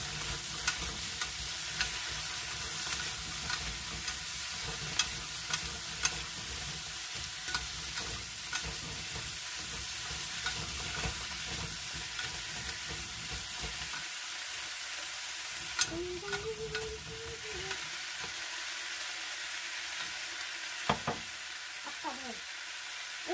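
Ingredients for a Korean braised chicken dish stir-fry in a pan, giving a dense sizzle with repeated clanks and scrapes of stirring that drop away partway through, leaving quieter frying.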